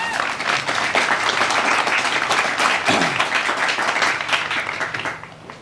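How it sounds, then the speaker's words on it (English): At a Peace Officers Memorial Day ceremony in 2020, a crowd claps loudly and continuously after a performance, with a voice briefly heard mid-way before the applause tapers off at the close. "How about another round of applause for them?"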